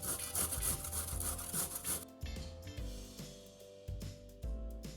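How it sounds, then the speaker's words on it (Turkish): Cucumbers with the peel on, grated on the fine side of a grater, producing repeated close, brisk rasping strokes in an uneven rhythm, busier in the first two seconds and sparser afterwards. "Kabuklarıyla birlikte salatalıklarımızı rendenin ince kısmıyla rendelememiz gerekiyor."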